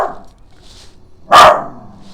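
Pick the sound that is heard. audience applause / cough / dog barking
dog barking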